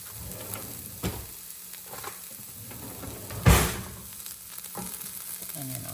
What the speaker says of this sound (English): Get that onion browned up a little bit.